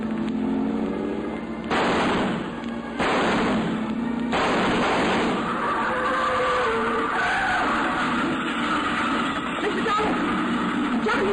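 A car engine revs hard and tires screech as it pulls away from a house, loud and close, with sharp bangs punctuating the roar, in a 1953 radio drama.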